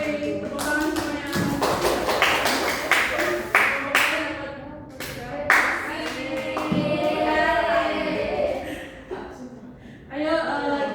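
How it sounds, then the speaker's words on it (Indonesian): A classroom of students claps their hands in bursts of sharp, uneven slaps. Several voices talk and chatter throughout. "Tepuk tangan semuanya."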